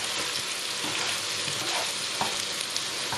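Steady, dense sizzling of tofu frying in hot oil, with faint scraping as it is stirred, close and continuous.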